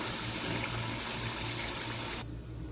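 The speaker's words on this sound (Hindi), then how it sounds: "ये थोड़ा सा पानी हम 2 टेबल स्पून डाल देते हैं" A small splash of water, about two tablespoons, goes into a pan of simmering chicken jalfrezi masala, giving a steady close hiss and trickle that cuts off abruptly near the end.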